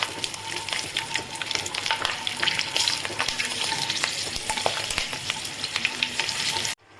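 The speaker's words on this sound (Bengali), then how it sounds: "এখন চিনিটা গলে গেছে, তেলটাও গরম হয়ে গেছে। এবারে আমি ফোড়নের এগুলো দিয়ে দিচ্ছি।" Whole tempering spices and slit green chilies sizzle in hot oil with melted sugar in a pan, a steady, close and loud frying hiss with crackles that stops abruptly at the end, with no speech.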